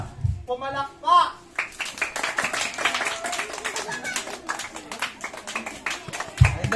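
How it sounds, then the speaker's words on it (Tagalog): Scattered clapping from a group of people at a child's first birthday party, brisk and uneven under lively chatter, following a few short bursts of sound at the start. "Pumalakpak!"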